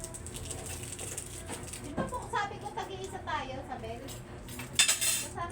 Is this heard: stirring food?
yes